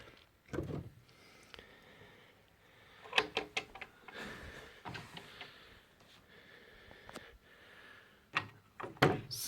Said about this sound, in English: we'll start by opening up the doors and seeing what's inside